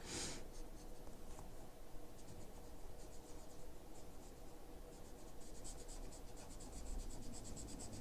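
Markers color on sketchbook paper, coat after coat, in faint, steady scratchy strokes that continue quietly and close by with no talking.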